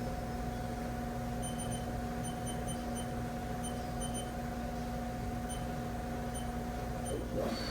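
A 2008 HAAS TM-3P CNC vertical machining center spindle running at 1,000 RPM gives a steady, even mechanical hum with a faint whine, continuous and fairly loud throughout, with a small clunk near the end.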